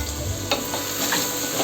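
Chicken frying in a pressure cooker for chicken pulao, a loud dense sizzle with a few scraping stirs over a short stretch, no talking.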